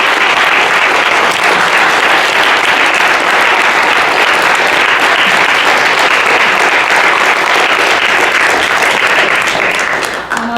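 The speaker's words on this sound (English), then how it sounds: "I wonder if we could just have an applause for the audience" Loud, sustained audience applause fills the room at the close of a women-and-climate-solutions premiere event, steady dense clapping from a large crowd that tapers slightly at the very end.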